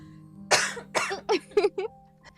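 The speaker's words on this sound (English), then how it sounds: "I need to cough 1 second" Several sharp coughs in quick succession, up close: two strong bursts followed by a few shorter, weaker ones, then quiet.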